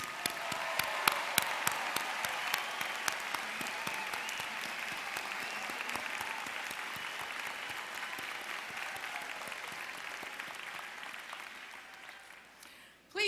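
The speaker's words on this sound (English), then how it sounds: "So will everyone please applaud all nurses under our roof today, including those in the audience" Audience at a university nursing commencement ceremony applauding, a dense steady roar of many hands clapping that holds for the whole stretch and stops abruptly at the end.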